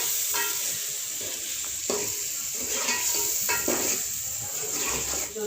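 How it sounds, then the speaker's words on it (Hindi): Salt, chili, turmeric and dried coriander sizzle and fry in a pan, a steady loud hiss broken by repeated scrapes and stirring clatter from a utensil against the metal. "मसाले को अच्छी तरह भूनना है"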